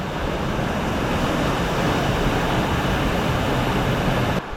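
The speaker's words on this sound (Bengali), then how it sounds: "ঝর্ণাটা দেখে ভালোই লাগছে এখানে এসে" A waterfall at a Khasi village roars as a dense, constant wash of rushing water, loud and unbroken, filling the whole clip until it cuts off abruptly.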